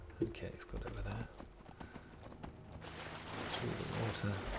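Horse hooves clop steadily as a horse gallops through the open world of Skyrim, the rhythmic hoofbeats moderately close amid game ambience, with faint talk over it.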